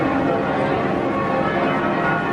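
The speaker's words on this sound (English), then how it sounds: "The bells are ringing, which is really cool because you can actually see the bells ringing." Church bells peal continuously during a celebration in a Mediterranean port, heard from aboard a cruise ship as a dense, steady wash of ringing with no clear individual strikes.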